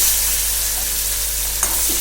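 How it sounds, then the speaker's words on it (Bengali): Pieces of katla fish fry lightly in a pan for a mustard-style dish, giving a steady close hiss and sizzle with a brief stir near the end, no voices. "মাছগুলো দিয়ে হালকা করে এপিট ওপিট একটু ভেজে নেব।"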